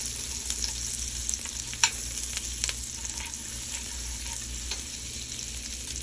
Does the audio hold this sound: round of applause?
no